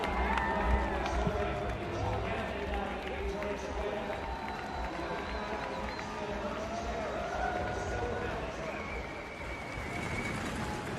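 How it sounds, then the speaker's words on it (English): Large marathon crowd at the Commonwealth Games cheering steadily and banging the boards beside the course, a dense, continuous roar of noise with a commentator talking over it. "And the crowds respond once more, banging the boards at the side of the course"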